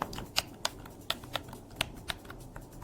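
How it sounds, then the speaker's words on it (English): Buttons on a PC and Xbox gaming controller click crisply, about eight sharp, quiet presses at an irregular pace. "the sound of the switch is crisp, and the rebound force is moderate"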